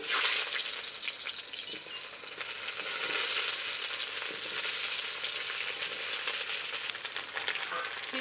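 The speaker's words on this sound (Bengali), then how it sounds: "এখন কড়াই তেল দিয়ে দিয়েছি এখন চচ্চড়ির আলু শিম বেগুনগুলো সব ভেজে নেব" Potatoes, flat beans and eggplant frying in oil in a wok, a loud steady sizzle with crackling spatter and occasional stirring, close up and continuous without talk.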